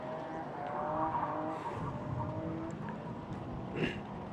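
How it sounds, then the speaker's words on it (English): Drift cars at a drift club event rev their motors and screech their tires in a continuous, dense roar, with a sharper squeal burst near the end. "if you're hearing motors revving and tires screeching"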